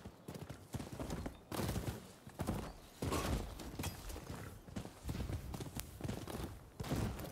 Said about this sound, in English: let's go off with the horsey though